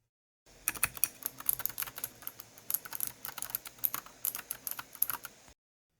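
Typing on a Mojo68 mechanical keyboard with a yellowish clear case and gray keys: a close, crisp run of rapid clacking keystrokes in irregular bursts for about five seconds, with no talking.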